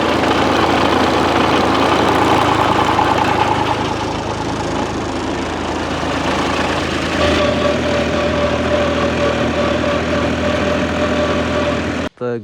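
Electric pump motor running at a farm well, a steady close hum with a low rumble and tonal whine that shifts midway and continues unbroken until a cut at the very end.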